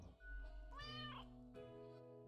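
A cat in the video game Death and Taxes lets out a single drawn-out meow that rises and falls in pitch, heard close and clear over a low steady background drone.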